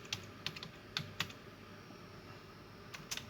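Typing on a computer keyboard while entering text in Microsoft Word: a few quick clusters of soft key taps spaced across a quiet stretch, faint and close, with no talking.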